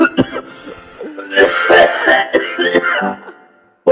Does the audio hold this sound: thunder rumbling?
no